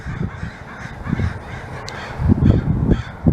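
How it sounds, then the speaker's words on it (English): Several crows caw in repeated harsh bursts outdoors, a few calls overlapping at moderate distance, loud and without talk. "So this is called a murder of crows."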